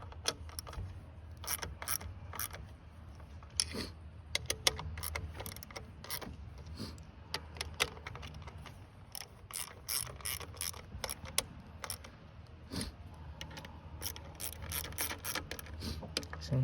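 Ratchet wrench clicking as small intake manifold bolts are tightened on a 2015 Honda Fit, rapid faint pawl clicks in uneven runs with metallic taps, close and quiet.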